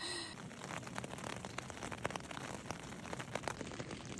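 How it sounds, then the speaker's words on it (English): Faint, continuous rain hisses and patters, with scattered drops ticking on a surface throughout. "It's been raining like this since I went to bed."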